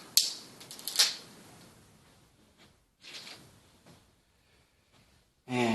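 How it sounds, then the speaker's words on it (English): A Venstar ColorTouch thermostat is pressed onto its wall base, giving a couple of sharp plastic clicks and snaps close up, then quieter handling rustle and a final click. "bring it down and snap it to the bottom like that"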